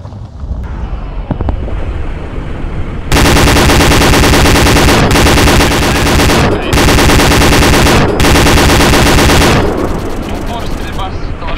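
Kalashnikov rifles firing inside ArmA 2 during an airport battle: sustained loud full-auto bursts in several long stretches with brief gaps, following quieter ambient game sound and a short muffled opening.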